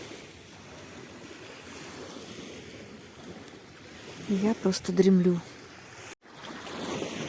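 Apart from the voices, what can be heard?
gentle sea waves lapping on the shore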